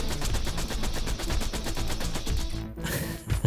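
Rapid automatic gunfire from Borderlands 2 rattles in a dense, continuous burst, loud and close, then breaks off abruptly near the end with a final sharp shot.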